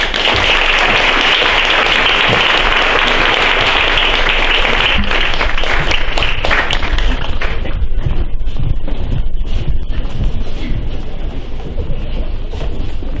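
Audience clapping along to an energetic Estonian folk dance by a school folk dance group in a museum hall, dense broadband applause sustained throughout, loud and close, thinning slightly toward the end.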